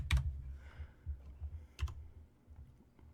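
Someone types a player's name on a computer keyboard in a few quiet, scattered keystrokes with soft clicks spread over a few seconds.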